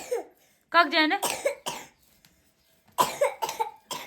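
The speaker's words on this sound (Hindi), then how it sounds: "और इसको वैसे खांसी भी हो रही है" A child coughs in a short burst, then speaks a few words, and the coughing returns near the end, close and clear.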